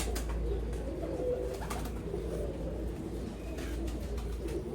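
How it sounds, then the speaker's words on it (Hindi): An aged pigeon coos softly in low, repeated throaty murmurs against steady background hum, with faint chirps from other birds and no voices. "ये इस कबूतर की नोट है"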